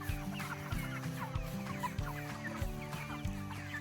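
Pasture-raised Cornish Cross meat chickens cluck steadily at close range, a busy overlapping flock chatter with a low droning hum underneath, no voices.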